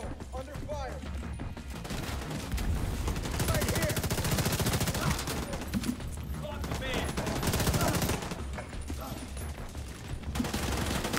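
Sustained automatic gunfire in a firefight from The Division 2, loud and dense bursts rolling across a chaotic battle with game music or effects layered beneath, with scattered voices talking through parts of it.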